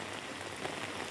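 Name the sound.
heavy rain falling in Hong Kong street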